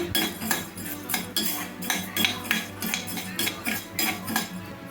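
A utensil scrapes and stirs urad dal and spices roasting in a pan, with steady repeated metallic scraping strokes close up and no talking.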